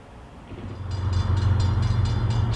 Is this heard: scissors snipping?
no